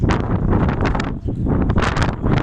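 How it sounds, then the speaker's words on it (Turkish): Strong gusting wind buffets the microphone outdoors in Kayseri, surging and easing in rough bursts with a rushing, rumbling roar. "dışarıda bayağı bir rüzgar esiyor"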